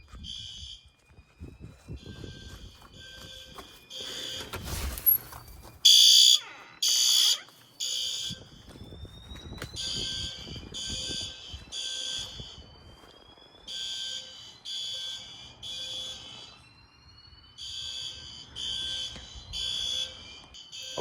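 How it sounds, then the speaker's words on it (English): Garage and house fire alarm systems sound together in full alarm, loud repeating electronic tones and whoops pulsing in bursts that overlap across the whole stretch, with a few knocks and handling noises in between. "that put both systems into full alarm"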